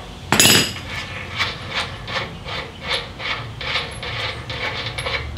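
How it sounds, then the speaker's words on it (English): A front axle nut and washer come off a 2015 Harley-Davidson Street Glide, starting with a sharp metallic clank, then a run of light rhythmic ratcheting clicks and small metal rattles close by. "And now I can remove that axle nut completely."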